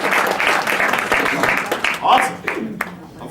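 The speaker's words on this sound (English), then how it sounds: "Can I get a little golf clap for that?" An audience gives a light golf clap, scattered polite claps mixed in with voices talking over them.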